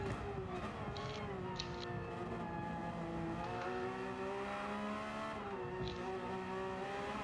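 Car engine sound from Gran Turismo 7 racing, with a steady engine drone, gear and rev changes, and tyre noise as the car brakes into a corner and slows, continuous and fairly close throughout.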